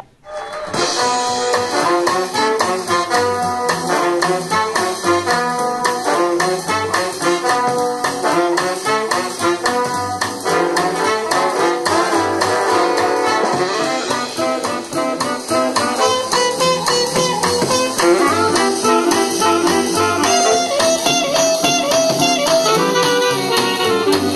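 Loud music plays continuously from the small speaker of a Pagaria R-917 radio playing from an SD card, with a full, steady beat and melody throughout.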